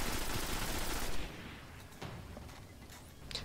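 Heavy gunfire in the Destiny Nightfall strike against Valus Ta'aurc, a dense loud burst of shots for about a second, then sparser scattered single shots and impacts fading into the background.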